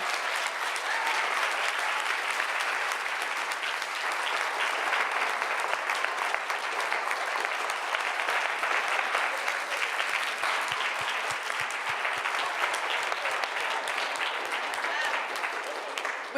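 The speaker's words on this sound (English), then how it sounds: "I just want a really wonderful applause for these amazing women." Sustained audience applause at an event honoring women leaders, a dense, steady wash of clapping hands that stays loud and even from start to finish, with no voices breaking through.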